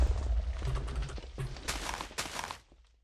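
Cannon shots in a Minecraft wool-race PvP match, a few booming blasts in quick succession followed by sharp bursts, with game noise underneath.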